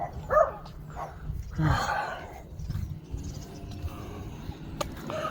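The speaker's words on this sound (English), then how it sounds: "rare that I see dogs barking over here" A few dogs bark sporadically in the distance outdoors, sharp yelps over a low ambient hum.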